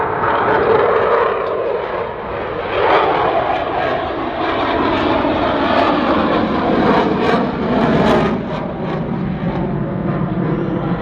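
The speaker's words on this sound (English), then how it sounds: "Nathan has slowed the aircraft to just 120 knots, right on the stall limit." A Eurofighter Typhoon with EJ200 engines flies slowly at an airshow near stall speed, a loud sustained roaring jet rumble with crackling, steady throughout, heard from the ground without talk.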